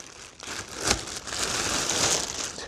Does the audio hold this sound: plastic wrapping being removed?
yes